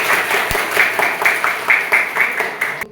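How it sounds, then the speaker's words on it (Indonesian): A classroom audience claps in a rhythmic, patterned series of beats, fairly loud and close, with slight crowd noise beneath the clapping. "Oke, tepuk tangan."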